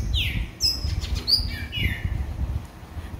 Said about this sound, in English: Today I just want to offer thanks to God for the birds that join us in morning prayer